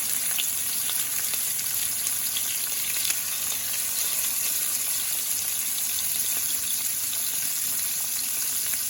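Shrimp for shrimp scampi sizzle in a hot pan, a dense steady crackle and hiss of frying that holds level throughout, close up with no talking.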